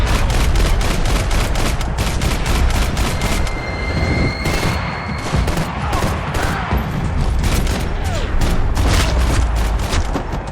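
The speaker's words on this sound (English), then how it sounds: "Gunfire over Hoboken." Rapid bursts of gunfire in the video game Max Payne 3 crack continuously, dense and loud, with booming shots layered throughout and no pauses.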